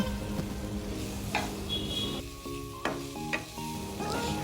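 Cauliflower florets frying in a pan, a steady soft sizzle of oil with occasional stirring scrapes and clinks, close and moderately loud, no talking.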